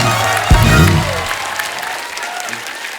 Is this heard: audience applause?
yes